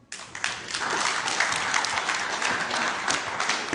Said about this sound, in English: Round of applause for all our candidates